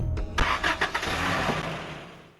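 In the video game Metal Gear Solid Portable Ops, a car engine cranks and catches, a brief starter whir followed by a loud rising rev that settles and fades within about two seconds.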